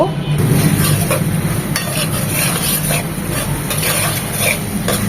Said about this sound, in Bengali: এখন মশলাগুলো খুব ভালোভাবে কষিয়ে নেব